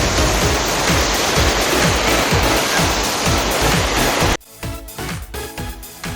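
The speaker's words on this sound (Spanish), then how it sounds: "la caída de agua que pueden apreciar" Iguazú Falls pours down in a loud, dense, continuous roar of falling water that suddenly drops away to a much quieter, rougher wash of water for the final couple of seconds.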